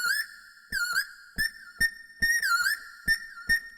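A melodic whistle-like lead in a hip-hop beat slides upward and bends between short punchy notes, repeating in a steady rhythm over sharp percussive hits.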